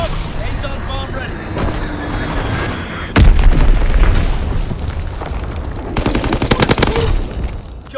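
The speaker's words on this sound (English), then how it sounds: "Enemy mortar fire incoming. Fall back. Enemy bomb incoming." Bomb and mortar explosions in the Call of Duty WWII video game form a rumbling battlefield din, with a sharp heavy blast midway and crackling gunfire near the end.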